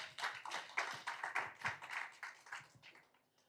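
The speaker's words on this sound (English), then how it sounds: "Give them a hand clap." Applause at a health partnership conference: a short burst of hand clapping from a modest audience, fairly quiet and distant, fading out toward the end.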